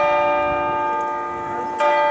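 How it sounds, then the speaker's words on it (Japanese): Church bells ringing across Munich, a sustained, resonant chime with layered overtones that holds steady before a fresh, louder strike near the end. "いろんなところで教会の鐘が鳴っています。"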